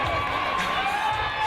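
A roller derby crowd at a season-finals bout cheers in a continuous roar of voices and whoops from an arena audience.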